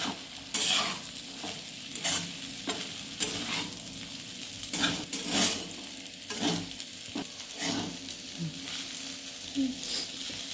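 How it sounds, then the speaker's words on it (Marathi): Sabudana (sago pearls) stirred and roasted in a pan with fried chillies and potato for khichdi, a steady close sizzle broken by repeated scraping strokes of a spoon at an irregular rhythm. "असं हलवून शाबू छान असा भाजायचा"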